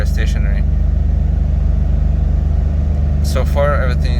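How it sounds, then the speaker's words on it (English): A Porsche engine with a ticking fault idles with a steady, throbbing low rumble close by, while a voice speaks briefly near the start and end. "I think the note of the engine has changed, so it sounds a little bit better"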